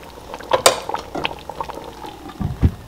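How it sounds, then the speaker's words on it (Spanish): Dried fish wrapped in egg boils in sauce in a pot for a traditional Guatemalan dish, giving close, busy bubbling and popping with a few soft utensil knocks. "acá lo tengo aproximadamente 2 minutos hirviendo el pescado"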